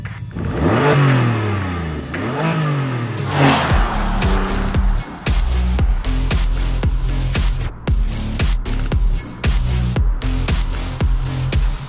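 A Porsche 911 (997) engine revs hard twice with sweeping rises and falls in winter, then settles into a loud, rough idle punctuated by sharp blips of the throttle.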